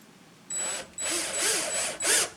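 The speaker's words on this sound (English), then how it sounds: "you have to open the chuck a lot larger to get the screwdriver drill bit in there" A cordless drill with a screwdriver bit drives a screw into wood in several short whirring bursts with brief pauses between, loud and close.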